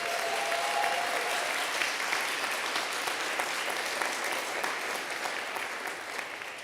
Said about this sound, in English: a warm applause for our volunteers